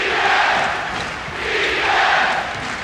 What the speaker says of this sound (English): And the crowd is into it, as you hear.